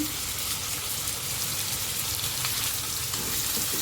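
Sliced onion, seven curry leaves and two cut green chillies frying in hot oil in a pan, giving a continuous close sizzle with crackling pops and no voices.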